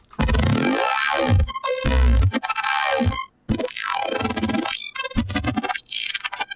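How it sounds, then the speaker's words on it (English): Saw-wave chords processed through the Rebound spectral filter plugin for color bass, producing loud, gritty synth stabs with sweeping filtered tones and sharp stuttering cuts. "Singing those same saw chords instead through Rebound sounds like this."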